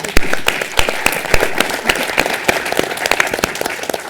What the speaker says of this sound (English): please join me in giving a big round of applause to our fabulous panel.